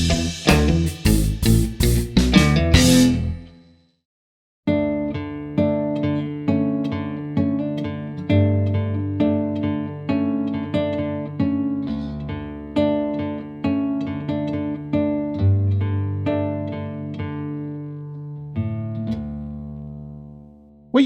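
Acoustic guitar plays the intro of a cover of a song: a bright strummed flourish, a pause, then a steady melodic line of plucked notes over ringing bass strings.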